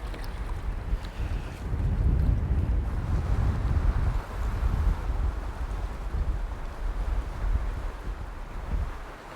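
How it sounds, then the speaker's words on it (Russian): Steady wind blowing on a forested shore beside a lake during a spring boat fishing trip, a loud continuous rushing roar with low gusty buffeting against the microphone, no voices. "Тут хоть ветерок дует, но не так сильно задувает."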